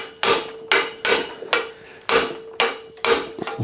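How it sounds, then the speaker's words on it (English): Steel hammer blows driving the bottom bracket cup out of a classic Muddy Fox Courier bicycle frame, seven sharp ringing metallic strikes at an uneven pace, close and loud with no talking. "then you just hit it with a hammer till it comes out"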